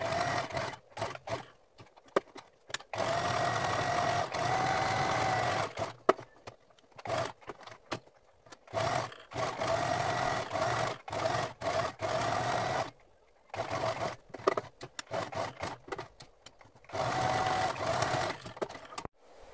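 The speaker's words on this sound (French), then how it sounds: "une fois que vous aurez enlevé votre surplus de couture, vous allez passer à un point zigzag" A sewing machine runs a zigzag stitch on a fabric bandana, in repeated steady whirring bursts separated by brief pauses, close and clear with no talk.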